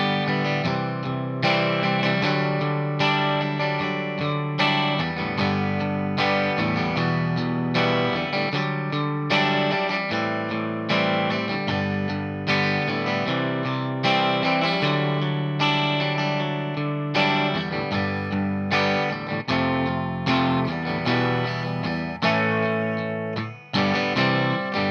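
Electric guitar playing the chorus of a song, strummed chords with a distorted, chorus-effected tone that ring continuously and loudly throughout, with no talking.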